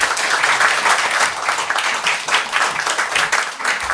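A church congregation at a retreat applauds to welcome a senior pastor, a full, continuous round of clapping from many hands filling the hall without speech.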